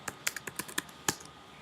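Keys tapped on a computer keyboard while naming a button in an iOS app project, about eight crisp irregular clicks close up within under two seconds, alone without talk.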